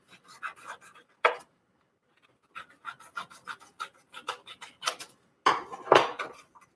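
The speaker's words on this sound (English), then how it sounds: "I'm going to use the scissors for this one." Scissors snip through paper for an abstract collage in short, close bursts of crisp cuts, separated by pauses, with a denser run of cutting toward the end.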